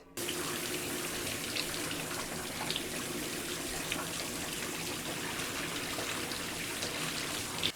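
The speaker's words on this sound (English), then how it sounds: "I'm just going to take my shower head off and rinse them out" Water from a detached shower head pours steadily over moss ball rocks, a constant close hiss and splash of spray with faint knocks underneath, no talking.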